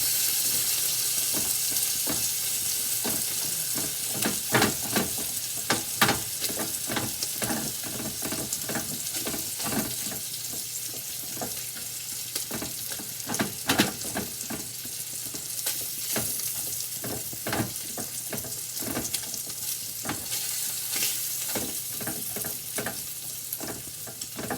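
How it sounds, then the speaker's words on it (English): Sausage sizzles in a frying pan while Bolognese is being cooked, giving a steady crackling hiss. Irregular sharp clacks of stirring or utensils against the pan recur throughout, with no talking. "You can listen to that sound of sausage sizzling."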